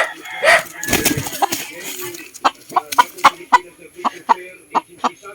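Chickens clucking in a series of sharp, close calls, with a louder flurry and possible wing flapping early on, then repeated short clucks at an irregular pace; faint talk in the background.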